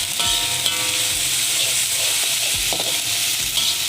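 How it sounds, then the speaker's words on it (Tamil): Ginger garlic paste frying with onions in a pan for a chicken kofta curry, giving a loud, continuous sizzle with a few soft clinks and scrapes of stirring. "இப்போ இஞ்சி பூண்டை சேர்க்குறோம். இது நல்லா வதங்கணுங்க."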